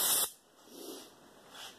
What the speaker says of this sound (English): I'm going to use just regular old paper towels and some carburetor cleaner and